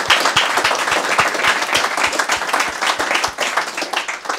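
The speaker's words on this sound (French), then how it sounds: "je pense que ça mérite déjà un bon applaudissement" Audience applause after a presentation at a DeFi meetup in Lyon: dense, even clapping from many hands, loud and sustained throughout with no voices over it.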